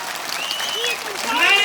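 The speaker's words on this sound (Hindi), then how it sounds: "जोरदार ताली, जोरदार ताली" Crowd applause at an outdoor political rally, steady and moderately loud, with whistle-like tones and voices rising through the clapping.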